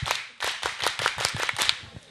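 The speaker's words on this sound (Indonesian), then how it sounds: "Kita beri tepuk Pramuka." A group performs the rhythmic Scout clap, tepuk Pramuka, at a Scout Movement anniversary gathering: a run of sharp, fairly close hand claps in a quick patterned beat, about a dozen strikes over two seconds, with no talking.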